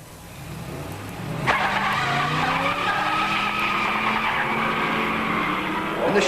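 A 1962 Corvette 327 fuel-injected four-speed and a 1967 Shelby Mustang 289 four-speed launch side by side in a drag race, a sudden loud burst of engine roar and tyre noise rising into sustained revving that holds steady to the end.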